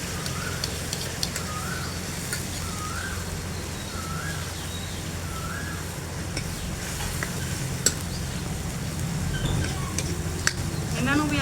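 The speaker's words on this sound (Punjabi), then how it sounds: "ਹੁਣ ਇਹਨੂੰ ਆਪਾਂ ਇਸੇ ਤੇਲ ਦੇ ਵਿੱਚ ਭੁੰਨ ਲਾਂਗੇ ਪਿਆਜ਼ਾਂ ਨੂੰ" Onions and garlic paste frying in oil, a dense continuous sizzle close by that grows slightly louder over time, with a few spatula taps and a faint chirping bird in the background.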